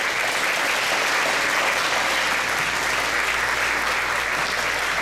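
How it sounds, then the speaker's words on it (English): An audience applauds after a show called Flight, a thick, constant roar of clapping from many hands, loud and even throughout with no break. "Give them another round of applause."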